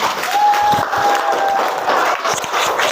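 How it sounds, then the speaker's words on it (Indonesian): A classroom audience claps at the end of a school lesson on electricity, dense steady applause for about three seconds, close and loud, with faint voices mixed in. "Oke, tepuk tangan untuk kita semua hari ini."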